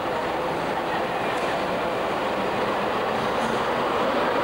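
A Beijing subway train in 1990 rumbles steadily along the tracks, a loud continuous roar heard from inside the car with faint rail clatter underneath.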